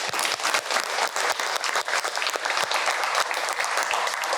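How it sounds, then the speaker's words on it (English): Sustained applause from an audience at a regeneration Q&A event, dense and steady clapping filling the whole stretch at a moderately loud level with no pauses. "So everyone, please give them a round of applause."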